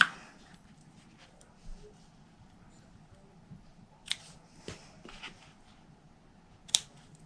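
Scissors trim the ends of ribbon on a Cadbury chocolate bar gift box, giving a few sharp, isolated snips over a quiet room with faint rustling between cuts.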